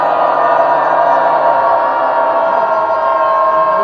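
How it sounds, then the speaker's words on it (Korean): A rally crowd at a weekly Wednesday demonstration raises a sustained collective shout, a loud continuous roar of many voices held steadily throughout. "어떤 어려움도 이겨낼 우리의 각오를 달진 5초 함성으로 연대 발언을 시작하겠습니다"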